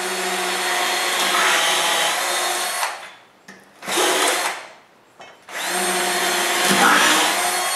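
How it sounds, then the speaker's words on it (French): Power drill driving screws into a wooden rail guide jig, three sustained whirring bursts separated by short pauses, loud and close, with no talking. "puis je visse ce côté-là aussi"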